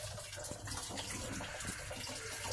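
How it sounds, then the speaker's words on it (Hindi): Water pours steadily into a Midea MWMTL062M31 washing machine drum as it fills, a continuous close rushing and splashing hiss with no talk. "पूरा पूरा पानी फुल भरने दो।"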